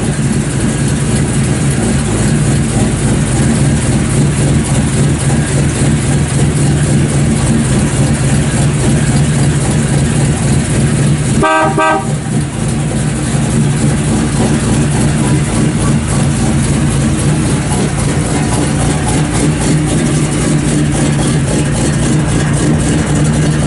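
1955 Chevrolet Bel Air 210 with a cammed engine and Flowmaster exhaust idling: a loud, steady, deep burble throughout, with one brief sharp disturbance midway.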